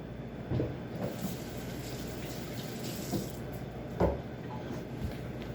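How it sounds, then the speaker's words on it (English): Water runs steadily from a kitchen tap in a school hospitality classroom as a hand is rinsed under it, a continuous close splashing flow with a couple of brief louder splashes. "I'm just gonna rinse off my hand here."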